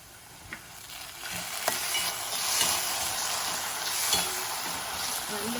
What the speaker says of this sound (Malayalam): തണുത്ത സോസ് കാരണേ ചൂട് ചട്ടിയിലേക്ക് അങ്ങോട്ട് ഇട്ടപ്പോഴേ അതിനങ്ങോട്ട് റിയാക്ട് ചെയ്തിട്ടുണ്ട്